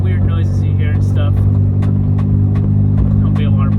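Pickup truck cabin on a bumpy road, a loud constant engine and road drone with repeated sharp knocks and rattles from the bouncing interior, continuous throughout.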